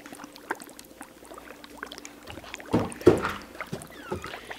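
Hot water with bubbling dry ice is dumped out, bringing a burst of splashing and gurgling amid quieter sloshing and faint bubbling, close by with no talk.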